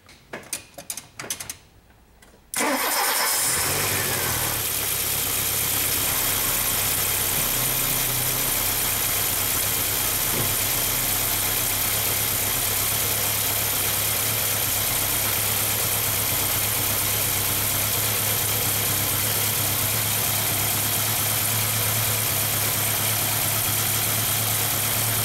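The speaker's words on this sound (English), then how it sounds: "Let's start this car" A Volkswagen Rabbit with CIS fuel injection is started after a few brief clicks and thumps, then settles into a steady, close idle with a constant low hum and faint mechanical rattle.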